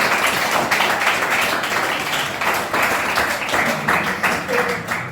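Classroom applause for a student, a steady wash of many small hands clapping at close range for about five seconds, with children's voices chattering underneath.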